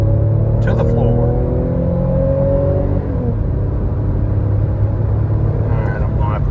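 A 2005 Toyota Highlander's engine pulls hard at full throttle, a loud steady drone with rising then shifting tones, close and continuous with road rumble beneath.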